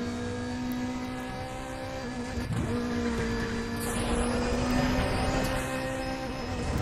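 A car accelerating hard in the racing game Need for Speed: The Run, a steady loud engine drone with wavering pitch and faint tire and wind noise, continuous throughout without speech.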